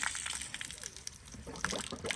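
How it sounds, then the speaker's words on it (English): Water drains out of a pipe in a steady gushing, splashing trickle, close and fairly loud, with brief bubbly surges. "now is that just water that's in the pipe? Is it all going to run out?"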